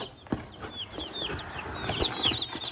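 Cornish Cross meat chickens, young birds being unloaded from a car, give repeated high cheeping and peeping calls over rustling and occasional wing flaps, fairly close and continuous.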